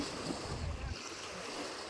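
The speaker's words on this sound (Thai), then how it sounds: "คลื่นแรงมากเลย" Strong waves churn on the Pasak Jolasid reservoir lake, a dense wash of water and wind rumble, loud and steady throughout, with no one speaking.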